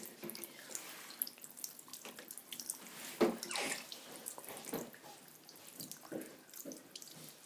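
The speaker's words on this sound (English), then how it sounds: "And then, so you just want to rinse it." Running tap water splashes steadily into a sink while a scratched Xbox 360 disc is rinsed clean of soap, with a few louder splashes midway and no talking.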